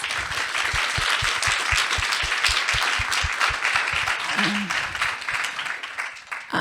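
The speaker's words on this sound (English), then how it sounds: "Can we give these two a round of applause?" A crowd applauds in a dense, steady wash of clapping that carries on for several seconds and thins slightly toward the end.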